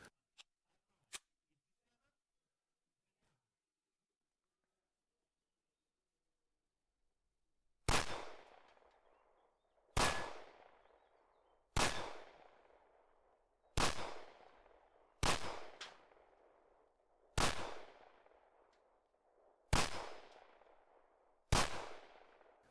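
A Luger P08 pistol fires eight shots at a steel gong target, spaced about two seconds apart, each a loud crack with a ringing metallic decay, preceded by a few faint mechanical clicks of loading and arming.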